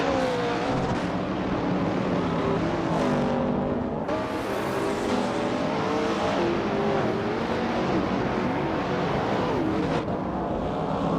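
Race cars in a video game, including a 1965 Lola T70 Mark 1 prototype, howl continuously with rising and falling engine pitches as gears shift, loud and close, several cars overlapping without any talk.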